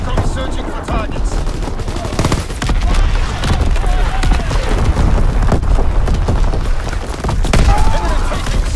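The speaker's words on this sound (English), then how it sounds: "Incoming enemy artillery!" Battle din from an enemy artillery strike in Call of Duty WWII, with heavy booms and chattering machine-gun fire layered together, loud and sustained, with shouting voices mixed in.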